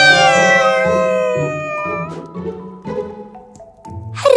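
Black cartoon cats meow in a rising, overlapping chorus of several drawn-out cries, loud and close, with no talking over them.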